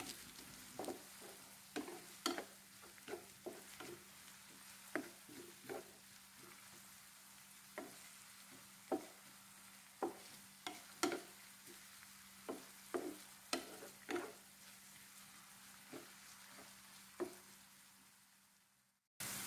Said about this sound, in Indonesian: Aduk dan tumis sebentar hingga wangi.